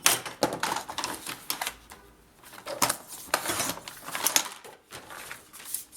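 Paper for a scrapbooking page is cut in a series of crisp, close snips and sharp slicing strokes, separated by short pauses and light handling rustles.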